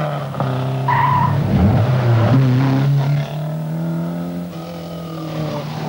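Renault Turbo rally car at the 1981 Donegal International Rally, driving hard on tight, twisting roads in Inishowen: a loud engine that revs and drops back with gear changes, plus brief tyre scrabble, and no voices.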